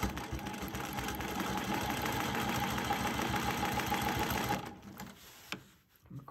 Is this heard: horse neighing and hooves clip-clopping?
no